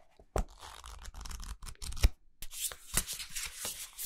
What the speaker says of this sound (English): The sound of the cards. Shuffling, shuffling, shuffling.